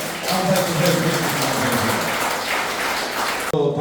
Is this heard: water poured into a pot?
no